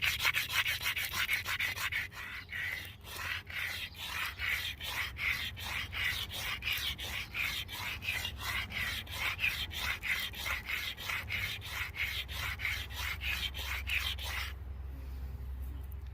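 A primitive stone chisel is ground against another stone to flatten its edges, giving steady rhythmic scraping strokes that are loud and close, repeating for about fifteen seconds before stopping.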